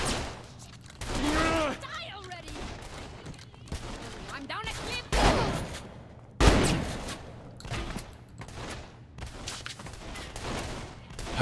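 Gunfire in Saints Row The Third Remastered, repeated shots and short bursts popping in and out among game voices and effects, with a few louder blasts standing out.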